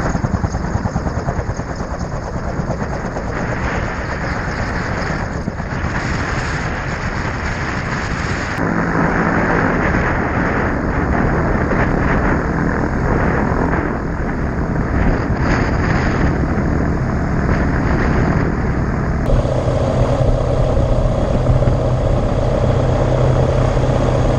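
A Rotorsport MT-03 gyrocopter rolling on the ground after touchdown, with a loud, continuous rumbling engine and rotor drone heavily buffeted by wind noise, shifting in tone a couple of times as it slows.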